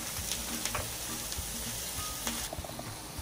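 Bread toasting in a pan with a little olive oil, a steady close sizzle and crackle with a few faint stirring clicks, no talking.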